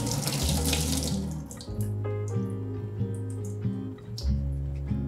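Tap water runs into a bowl or sink to soak thinly sliced burdock root, a steady close stream with clinks and shifting splashes as the flow changes.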